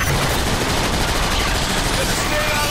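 Dense, continuous sniper and automatic gunfire in the Fall of Cybertron video game, a steady loud barrage of overlapping shots with no pauses, mixed with indistinct voice-like game sounds.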